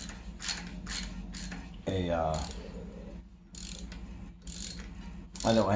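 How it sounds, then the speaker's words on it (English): Hand ratchet wrench turning on the exhaust of a 1981 Yamaha XS850 Special motorcycle, a rapid series of close clicking ratchet strokes in several bursts with pauses, mechanical and crisp. "So instead I'm using just a regular ratchet."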